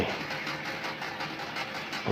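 A tractor drives a jowar fodder-cutting harvester in a field, its engine a steady droning rumble with a faint rhythmic pulse, continuous and moderately close.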